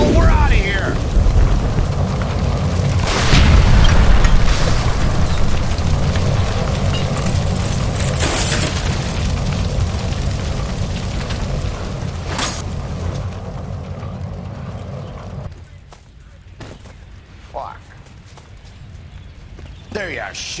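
A gas line explosion in L.A. Noire sets off a loud booming blast with rumbling debris amid hurried voices. The roar then fades into quieter ambience and a few scattered clatters.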